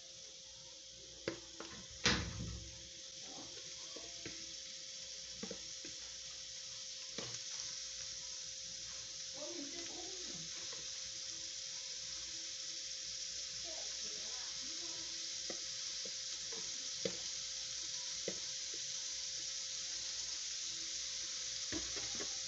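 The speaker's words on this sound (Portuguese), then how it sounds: "já começa já a fritar, ó, o barulhinho" Shrimp frying on a hot griddle, a soft steady sizzle running throughout with a few sharp clicks and clatters of utensils.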